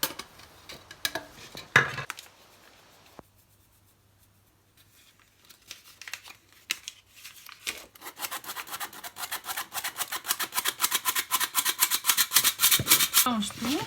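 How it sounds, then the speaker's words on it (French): Cake batter of milk, flour, baking powder and eggs mixed in a bowl. Scattered scrapes come first, then a near pause, then a rapid, steady rhythmic whisking that grows louder toward the end. "Mélange tout."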